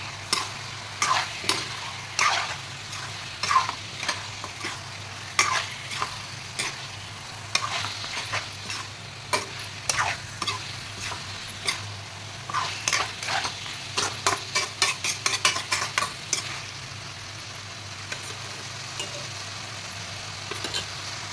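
Meat, chicken, frying in a pan with cauliflower to come, a soft steady sizzle under repeated close scraping and clinking of a spoon stirring, busier strokes in the middle, no talk.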